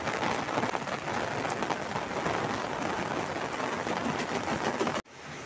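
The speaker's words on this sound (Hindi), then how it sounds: "देखें जी, बारिश हो रही है" Heavy rain pours down in a dense, continuous hiss, then stops abruptly near the end, leaving a quieter background.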